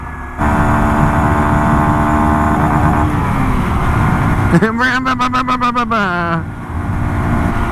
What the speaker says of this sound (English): as the RPMs go up, it's gonna slowly kind of gain RPMs